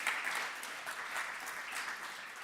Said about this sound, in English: give our speaker a round of applause